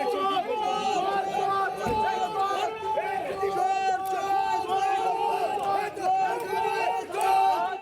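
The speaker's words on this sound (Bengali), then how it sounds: "বিজেপি কর্মীরা তাকে লক্ষ্য করে জুতো দেখিয়ে চোর চোর স্লোগান দিতে শুরু করেন" Crowd of BJP workers chanting 'thief, thief' slogans at an arrested Trinamool leader in Durgapur, a loud, dense babble of many voices shouting over each other with rhythmic chant bursts throughout.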